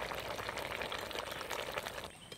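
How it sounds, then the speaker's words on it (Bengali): Curry gravy with eggs bubbling steadily in a pan, a dense continuous simmering hiss that stays moderately loud throughout and thins out abruptly near the end, with no talking. "ডিমগুলো দিয়ে ঝোলটা আর একটু ফুটিয়ে নেব।"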